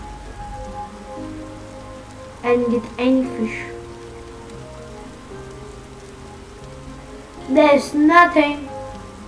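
Steady rain patters on surfaces at a campsite during fishing, a soft continuous hiss throughout while a person speaks briefly twice over it.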